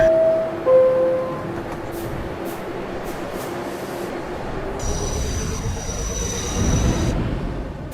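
NYC subway Times Square shuttle train at Grand Central station, a low rumbling train with brief tonal chimes early on, a hiss near the middle and a rising rumble toward the end, no speech.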